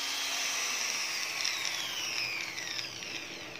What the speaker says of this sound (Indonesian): Oke, kita akan coba bor.